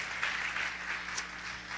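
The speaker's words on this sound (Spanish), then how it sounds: "Un aplauso al Espíritu Santo de Dios" A church congregation claps together in a brief, even burst of applause that sounds soft and somewhat distant.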